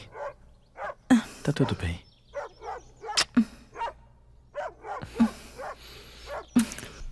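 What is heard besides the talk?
dog barking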